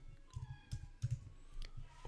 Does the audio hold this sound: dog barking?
no